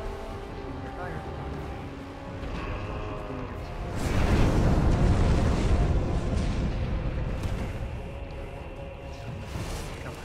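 A creature in a video game spews fire in a loud roaring, rushing burst that swells midway and lingers several seconds over a low game backdrop.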